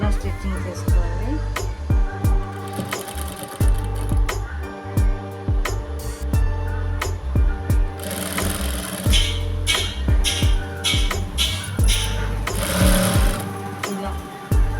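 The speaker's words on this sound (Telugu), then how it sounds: "ఇలా తిరగపాటుకి పెట్టుకొని ఇలా స్టిచ్చింగ్ చేసుకోవాలి." A sewing machine with a normal presser foot stitches thread piping, a loud close rhythmic whirr in repeated short runs with brief stops between them.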